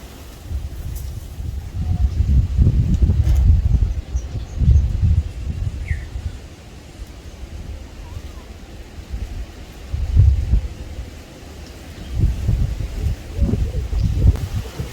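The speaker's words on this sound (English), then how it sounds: "I normally don't like the wind, people, but this wind is bringing some very welcome relief." Outdoor wind gusts rustle through leaves near a guinea fowl brood, swelling and fading in low, blustery waves with some microphone buffeting over about fifteen seconds.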